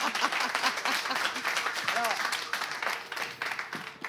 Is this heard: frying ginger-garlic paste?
no